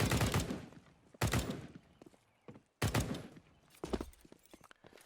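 Close-range gunfire in a tactical shooter on the Inferno map, with several sharp bursts of shots separated by brief pauses.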